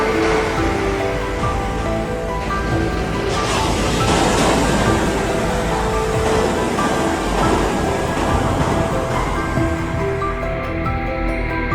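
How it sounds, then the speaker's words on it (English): Rushing water like waves or surf, a loud, steady broadband wash that holds for the whole stretch with no talking. "He likes the sound of the water."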